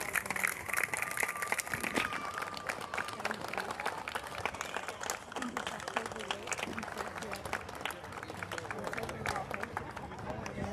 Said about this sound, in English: Big round of applause for Libby.